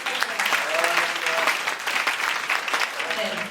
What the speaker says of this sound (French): Give the Lord a big hand, please